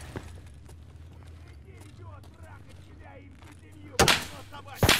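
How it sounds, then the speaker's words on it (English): Gunfire erupts in the Lab map of Escape From Tarkov, with two loud sharp bursts near the end after a stretch of quieter game sounds and voices talking. "What are they shooting at?"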